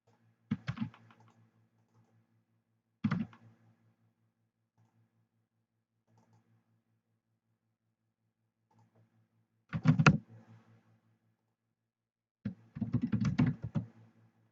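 Brief bursts of computer keyboard typing and clicks come in four separate clusters against near silence, close and fairly quiet, during copying and pasting of text.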